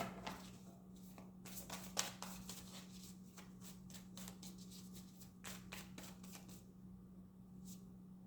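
Tarot cards are shuffled and one is drawn: soft, quiet riffling and flicking bursts in an irregular rhythm, close by, over a low steady hum.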